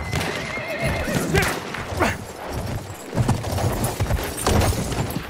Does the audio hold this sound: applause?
no